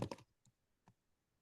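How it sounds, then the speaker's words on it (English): Typing on a computer keyboard during an online meeting: a quick burst of clicking keystrokes, then two isolated taps, close and faint in a quiet room with no talking. "I'm just typing this on here"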